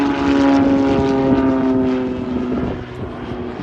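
A WWII Luftwaffe trainer plane flies aileron rolls at a World War 2 airshow weekend. Its propeller engine gives a loud, steady droning hum that eases slightly as it moves away.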